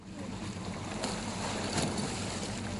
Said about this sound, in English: Students have to flip their boats,